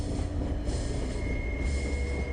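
A train runs along rails across open Polish moorland with a steady rumbling roar, a faint metallic whine riding above it throughout.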